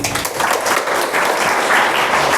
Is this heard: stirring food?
no